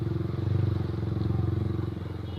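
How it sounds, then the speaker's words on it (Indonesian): A motorcycle fitted with a loud aftermarket exhaust idles and putters in slow, jammed traffic, its low pulsing engine note close and steady. "Gue masih pakai knalpot berisik"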